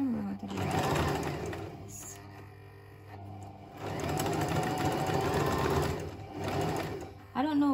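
A home sewing machine stitching fabric, running in steady whirring stretches with a brief slowdown midway, close by, while a person talks over it.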